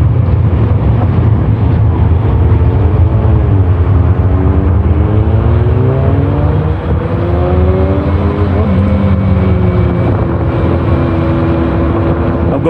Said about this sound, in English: Going up this hill and I got it full throttle and we're at 16 miles an hour full throttle.